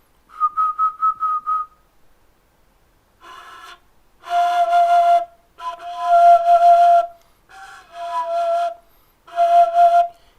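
A didgeridoo played with the flute sound technique gives high, whistle-like tones: a quick run of short pure notes, then several sustained, buzzy overtone-rich notes with pauses between them, loud and close.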